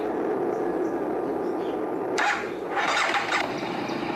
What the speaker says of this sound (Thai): เดี๋ยวเราไปขี่รถให้ดูกันเลยดีกว่าไป